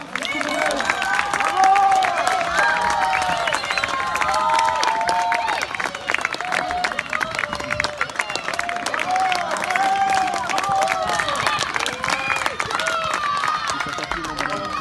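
A crowd applauds knights and their horses at a show in Auvergne, France, sustained dense clapping and cheering throughout, with voices of people in the crowd mixed in.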